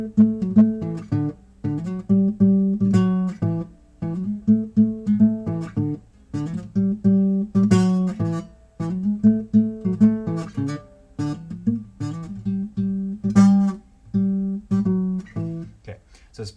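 A bass-line riff from a song's chorus is picked on guitar, a steady repeating pattern of low, plucked notes with short gaps between phrases, played alone at moderate volume.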